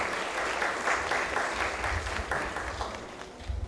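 An assembly applauds at a constitutional reform gathering in the Caribbean, a steady wash of many hands clapping at moderate level throughout, dense and unbroken, with no speech over it.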